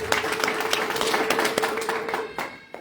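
A church congregation claps along in a sermon, a lively burst of fairly close, sharp handclaps running steadily before tapering off at the end.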